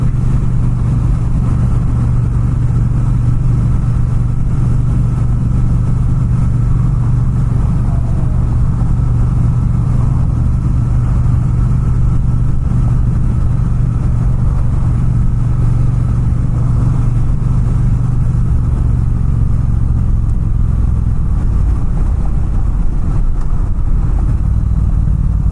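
A Triumph Bonneville T120 Gold Line motorcycle gives its exhaust note while riding, a steady, close, low engine drone that continues without a break.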